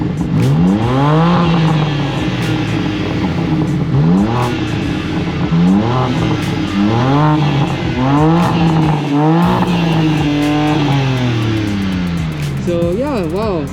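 Engine of a latest-generation BMW M car revs repeatedly, loud and close, rising and falling in sharp sweeps that resemble a race car, with faint talk underneath on a drive up Mt Faber.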